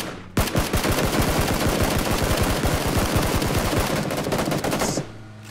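Rapid automatic gunfire in a video game, long bursts of loud, closely spaced shots rattling for about five seconds before stopping, with no talking over it.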